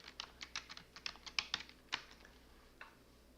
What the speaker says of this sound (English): I'm just going to type in shipping.